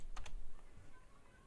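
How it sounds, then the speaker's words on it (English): A few quick clicks on a computer keyboard, two sharp keystrokes close together followed by softer taps, faint and close in a quiet room. "I can just type in UCS and return twice."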